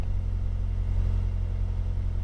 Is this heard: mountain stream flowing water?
no